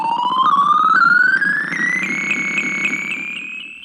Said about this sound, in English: This is a pitch algorithm now. So you can hear there, the pitch starts low, comes to a center point, and then rises in the aftertouch.